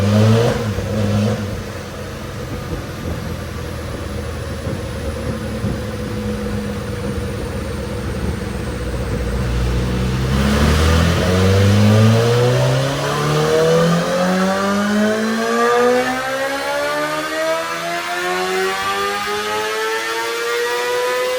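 A 2025 Honda CBR1000RR-R SP superbike on race fuel with its stock exhaust roars on a dyno, the engine note climbing steadily in a long full-throttle pull, loud and close, with rising whine through the run.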